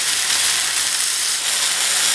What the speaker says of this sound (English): Now let's toss the mushrooms again.